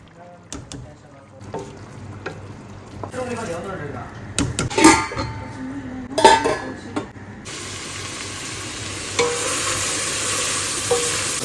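Food is fried and stirred in a pan in a home kitchen at night: a spoon scrapes and clatters against the pan over a low sizzle that grows into a steady hiss, with voices briefly in the background.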